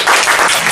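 A brief, loud burst of audience applause at a Korean lecture gathering on pu-erh tea greets a janggu drum teacher, dense and close, lasting under a second.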